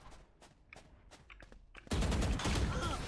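Gunfire in the video game Valorant: a quick series of sharp separate shots and footsteps, then a sudden loud sustained burst of rapid fire filling the last second.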